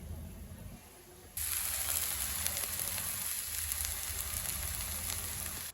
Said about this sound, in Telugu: కొద్దిగా ఆయిల్ వేసుకొని 2 సైడ్స్ బాగా కాల్చుకోవాలి.